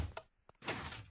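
A Minecraft piston door made with pressure plates opens and then closes: a short thump, a brief sharp knock, then a broader sliding thud, close and fairly quiet, with no talk.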